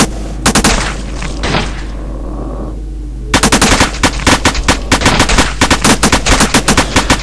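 Automated sentry guns firing in the Zombie Assault video game: loud rapid bursts of machine-gun fire, a short lull, then a long dense stretch of continuous rattling shots, no voices.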